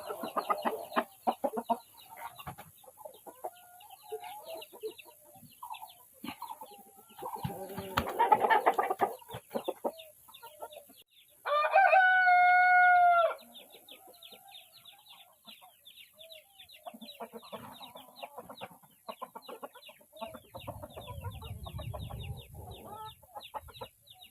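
Chickens clucking nearby throughout, with a rooster's loud harmonic crow rising out of the flock about midway.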